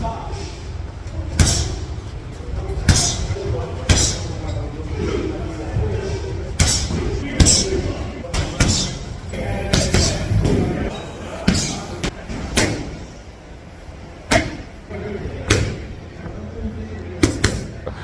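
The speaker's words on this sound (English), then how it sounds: "I'm also gonna bring you clips from the gym of me hitting the bag" Punches landing on a heavy punching bag in a gym, a long series of loud, sharp thuds and slaps at irregular intervals, some close together, over room noise and someone talking.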